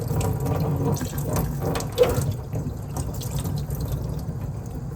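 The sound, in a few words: rinsing a French press cafetière under running water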